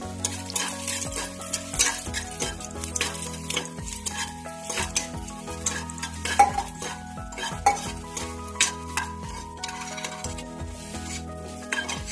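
A spoon scrapes and stirs raisins frying in a pan over a soft sizzle, with repeated metallic clinks in an uneven rhythm.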